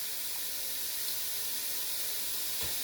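Onions and garlic sizzle in a hot soup pot for cheesy Italian sausage pasta soup, a steady, bright hiss that holds evenly throughout with a faint knock near the end and no talking.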